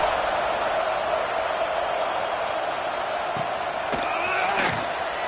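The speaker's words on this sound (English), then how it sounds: "this crowd is buzzing after that last score" Stadium crowd at an LSU Tigers football game keeps up a steady, loud buzz of massed voices, with a few sharp claps or thumps standing out near the end.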